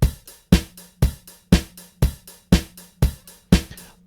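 An electronic phonk drum beat loops steadily, with a punchy kick on each beat and quick hi-hat ticks in an uneven pattern between them, with no voices.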